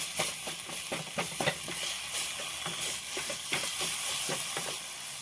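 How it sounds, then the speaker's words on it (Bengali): Ground spices, including a spoonful of coriander powder, are stirred and mixed in a hot pan for fish cutlets, with a steady sizzling hiss and rhythmic scraping strokes throughout. "এবার আমি একটু সব মশলাগুলোকে একটু আমি নাড়িয়ে নিই, মিশিয়ে নিই একটু।"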